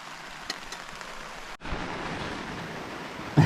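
Heavy rain drums steadily on a tent in the Australian Alps, a dense close hiss that briefly cuts out, then returns louder with a sharp knock near the end.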